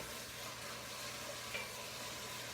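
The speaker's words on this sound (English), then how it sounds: "I'm just going to put the thyme. So we're going to let this saute." Greens and thyme sauté in a pot with a steady, soft sizzle that holds level throughout, fairly quiet and close, with no voices.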